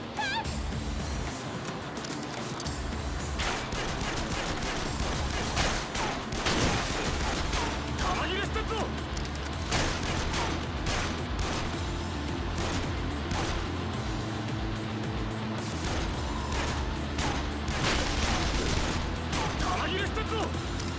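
Rocket launcher blasts and gunfire in the video game Yakuza 0: dense, repeated sharp shots and booms run throughout over a thick background of game noise, with occasional speech.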